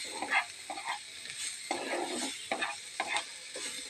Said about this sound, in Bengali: দেখো আমার উচ্ছেটা পুরো ভাজা হয়ে গেছে।